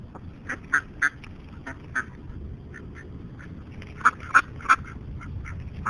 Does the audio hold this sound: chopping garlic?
no